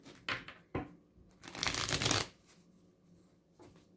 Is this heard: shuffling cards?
yes